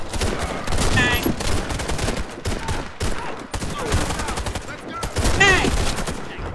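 Warface video game gunfire crackles in rapid bursts, loud and close, while a player talks over the shooting.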